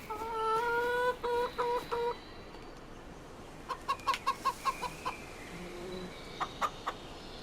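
Chickens in a Farming Simulator 25 garden coop cluck in two bursts, a rapid run of clucks early on and another quick series a few seconds later, fairly close with quiet ambience between.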